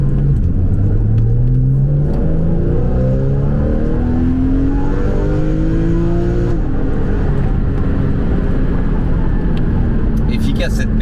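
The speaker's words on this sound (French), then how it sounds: "On entend la sonorité du moteur et je trouve qu'on n'entend pas l'échappement" A Porsche with a PDK gearbox accelerates hard, heard from inside the cabin, its pitch climbing smoothly through gears with a steady rumble under a talking voice.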